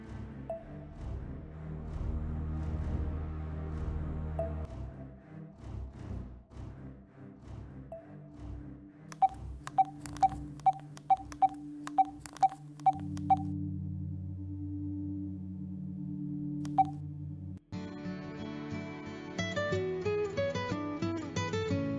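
A phone number is dialed at home, a quick run of about nine evenly spaced touch-tone beeps over background music, with one more beep a few seconds later.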